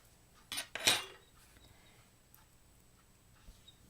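Small metal chainmail jump rings clink as they are scooped up with tweezers for a Mobius ball bracelet, two quick close clicks near the start and then near quiet with a faint tick.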